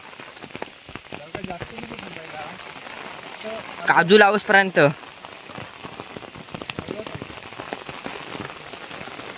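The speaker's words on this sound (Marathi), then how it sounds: "तिकडे बघू शकता पाऊस किती जोरात पडतोय." Heavy rain pours onto farm fields where cashew saplings are being planted, making a dense, steady hiss of drops throughout. Someone speaks loudly partway through, and other voices are heard more faintly under the downpour.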